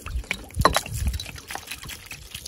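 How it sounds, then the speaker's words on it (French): Water runs and splashes as a cleaned surface is rinsed during a DIY job, an irregular close trickle with small sloshes and drips. "tu viens avec de l'eau, tu viens rincer"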